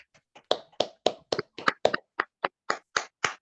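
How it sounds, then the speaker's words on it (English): Sparse, hesitant clapping from an online poetry reading audience: about a dozen distinct claps in an uneven rhythm, fairly quiet and close, like one or two people applauding alone. "I'll give you all unmute and give a round of applause, please."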